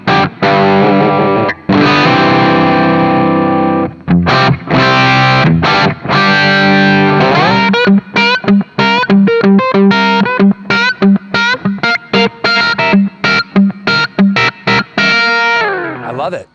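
Heavily distorted electric guitar plays through a Jared James Nichols signature Blackstar amp head on channel 2 with the gain turned up, loud and close, moving from sustained chords into a run of choppy staccato stabs.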